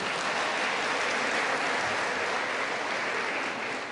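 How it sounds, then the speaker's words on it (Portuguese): A church congregation claps together in a dense, even round of applause, close and steady for a few seconds with no pauses. "Uma salva de palmas,"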